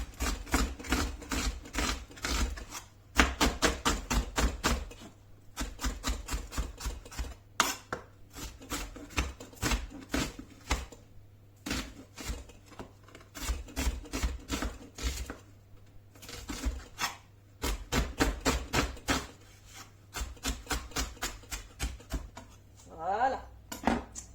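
Rapid, steady knife strokes finely chopping ingredients on a kitchen work surface for a quick fish tagine, coming in close bursts separated by brief pauses, with a constant low hum underneath.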